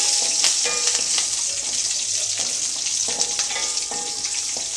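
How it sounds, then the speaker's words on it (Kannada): Curry leaves, garlic and fresh ginger fry in a pan over a medium gas flame, giving a loud, steady sizzle with crackling pops and occasional stirring scrapes throughout, without talk. "ಒಂದು ಸ್ವಲ್ಪ ಕರಿಬೇವು ಹಾಗೆ ಬೆಳ್ಳುಳ್ಳಿ ಮತ್ತು ಹಸಿ ಶುಂಠಿ ಹಾಕಿ ಫ್ರೈ ಮಾಡ್ತಾಯಿದ್ದೀನಿ"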